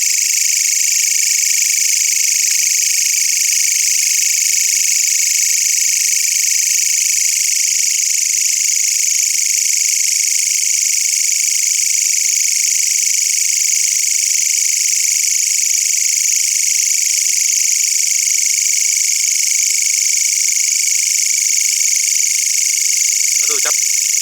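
Green long-horned katydid calling at night, a loud continuous high buzzing trill that holds steady and close without pause for over twenty seconds.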